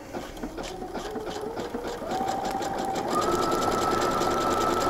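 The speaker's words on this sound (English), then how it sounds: "So I'm going to start stitching this now." Sewing machine stitching fabric for an applique superhero cape, a rapid, steady mechanical whir and needle clatter that speeds up slightly in steps, close and continuous with no talking.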